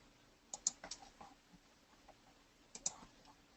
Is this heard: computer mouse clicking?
yes